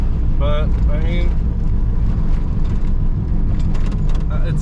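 Inside an MK2 VW Golf with a fresh power steering rack, driving down the road: a constant low engine and road rumble fills the cabin while someone talks over it.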